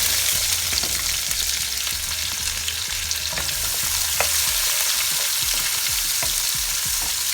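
Onions frying in oil with oregano in a pan give a steady, dense sizzle, close and even throughout, with small stirring clicks and pops.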